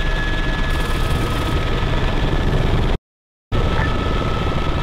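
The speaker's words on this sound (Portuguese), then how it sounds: "Tô vendo um helicóptero à direita." A helicopter in the Arma 3 military game, identified as an enemy aircraft, makes a steady loud rotor and engine drone that fills the whole stretch, broken by one brief dropout.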